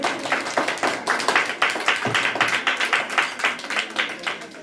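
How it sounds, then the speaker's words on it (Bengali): An audience at a school farewell ceremony claps to welcome the chairman: dense, continuous applause throughout, with a faint voice underneath. "হাততালি দিয়ে আমরা তাকে বরণ করে দিচ্ছি"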